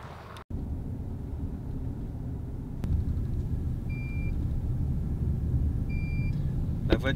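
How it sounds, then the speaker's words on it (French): Car warning beeps inside a vehicle on a road trip: two short paired electronic beeps several seconds apart, clear over the steady low rumble of the moving car, with no talk. "La voiture est en train de biper."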